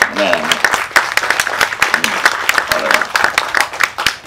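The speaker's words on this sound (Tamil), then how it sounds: "அவருக்கு ஒரு கைத்தட்டு" An audience breaks into sustained applause for a person at a Tamil-language event, dense rapid clapping with a voice speaking over it near the start.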